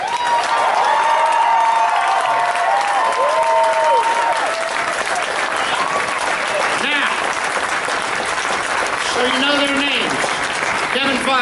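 A loud crowd claps and cheers without a break for the film crew of CMT's Sun Records series, with whoops and voices rising over the steady roar of the applause.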